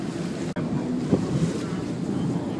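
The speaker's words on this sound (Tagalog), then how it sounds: "Grabe ang hangin." Strong wind buffets the microphone in a steady roar on a ferry in Hong Kong, over rushing water, with a brief dropout and faint voices underneath.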